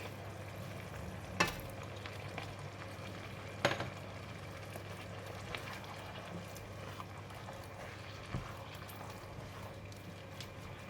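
Beef tenderloin and broccoli stir-frying in a pan with oyster sauce, a soft continuous sizzle with a few sharp utensil clacks against the pan.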